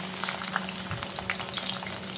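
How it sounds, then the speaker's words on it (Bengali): Garlic frying in oil crackles and spits steadily up close, a dense, even sizzle with small pops and a low hum underneath, and no one speaking. "রসুন ভেজে নিচ্ছি,"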